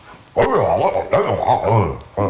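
A dog close by lets out drawn-out, wavering howls mixed with low grumbling whines, asking to go outside, nearly continuous with a brief pause near the end.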